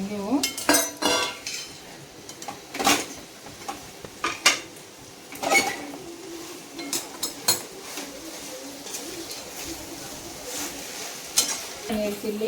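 Paneer chilli is tossed in a pan with cornflour slurry, spatula scraping and clanking against the metal in irregular bursts over a low sizzle, with soft talk in places.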